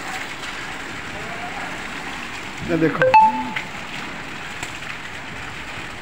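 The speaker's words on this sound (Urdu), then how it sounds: "ماشاءاللہ بارش ہو رہی ہے بارش بہت زبردست" Heavy rain falls in strong wind as a steady, even hiss throughout. A voice speaks briefly in the middle over it.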